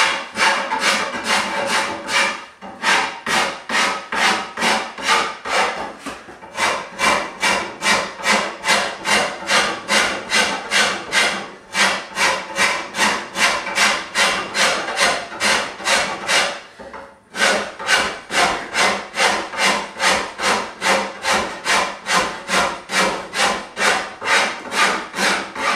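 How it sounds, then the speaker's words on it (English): A rasp cuts wood from a self bow in steady, rapid back-and-forth strokes, loud and close, with a few brief pauses between runs. "Seems to work better removing wood if you go at diagonal rather than straight across."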